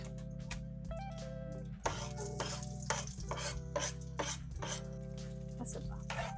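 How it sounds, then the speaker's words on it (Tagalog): Oil sautéing in a home kitchen pan, a soft sizzle under rhythmic clinks and scrapes of a utensil stirring against the pan, with a steady low hum throughout. "Igisa natin siya dito. Ilagyan ko na mantika yan."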